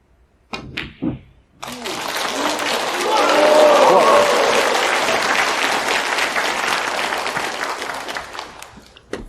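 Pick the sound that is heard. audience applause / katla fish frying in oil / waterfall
audience applause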